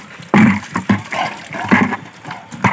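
Water runs from a household tap in uneven gushes and splashes, fairly close and loud, with irregular bursts rather than a smooth stream.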